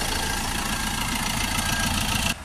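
A Ford Transit Custom 2.2 diesel engine idles close by after an EGR valve replacement, a steady dense rumble with a slight rhythmic knock that drops off abruptly at the end.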